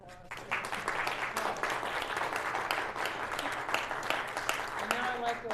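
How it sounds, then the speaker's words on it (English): Audience applause in a lecture hall at the close of a physics colloquium on the mathematics of nuclear proliferation, a steady, dense wash of many clapping hands sustained throughout at moderate level. "I'd like to give a round of applause"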